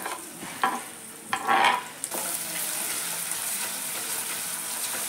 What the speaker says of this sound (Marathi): आता मी कांदा घालते, बारीक चिरून घेतलेला आहे एक कांदा।